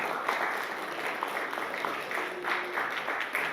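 Audience applause at a beauty pageant in Mumbai, a steady continuous patter of many hands clapping at moderate distance throughout, with faint voices underneath.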